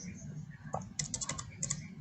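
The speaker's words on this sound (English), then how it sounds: "we will type this price here" Keys tapped on a computer keyboard, a brief cluster of quick, light clicks in an irregular rhythm, fairly faint and close, with no one talking.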